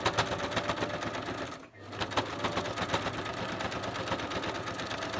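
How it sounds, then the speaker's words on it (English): A home sewing machine with a regular needle and stitch length set to 3 runs steadily through a fabric snippet roll for a junk journal, giving a close, continuous rapid mechanical whir that briefly pauses in the middle before resuming. "hopefully you can see because the light's not working on my sewing machine."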